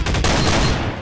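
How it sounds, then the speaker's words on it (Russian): Sustained video-game gunfire in Garry's Mod, a dense, loud burst of rapid shots running steadily for about a second with no pause. "Ой, по своим же стреляю."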